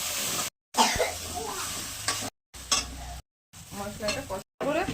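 A spice paste with turmeric and salt is stir-fried in oil in a pan, making a close sizzle with scraping and clinking from stirring. It comes in short bursts broken by brief silent cuts.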